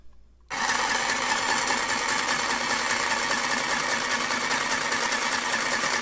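A Singer toy sewing machine starts up and stitches fabric with a loud, steady, buzzing whir that runs continuously and close after a short quiet moment.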